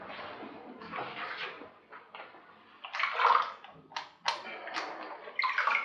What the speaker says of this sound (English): We're going to pre-soak 2 bandages again. Squeeze them out nice and tight, get the water out of them